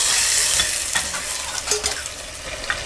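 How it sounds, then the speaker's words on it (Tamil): Mustard seeds, chana dal, urad dal, curry leaves and a single dried red chilli fry in hot oil in a pan, giving a steady close sizzle with scattered sharp pops and crackles. "கடுகு போட்டுக்கலாம். கடலைப்பருப்பு, உளுத்தம்பருப்பு, கருவேப்பிலை, ஒரே ஒரு வரமிளகாய், இது நல்லா பொரியட்டு"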